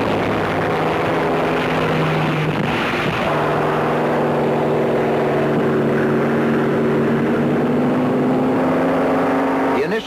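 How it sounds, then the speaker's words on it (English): Hawker Sea Fury propeller aircraft brought up from the hangars onto the deck of the carrier HMAS Sydney, their piston engines droning steadily and loudly for the whole stretch with a sustained low hum and a slight swell partway through, no talk over it. "More and more Sea Furies come up from the hangars"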